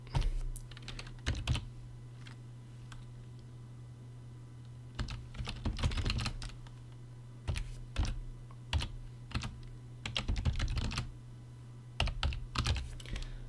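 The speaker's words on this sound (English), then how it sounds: "I think I typed all that right." Linux commands are typed on a computer keyboard in rapid clusters of crisp, close key taps separated by short pauses, with a steady low hum underneath and no voices.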